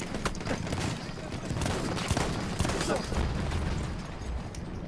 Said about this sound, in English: Shot off that shotgun quite a bit.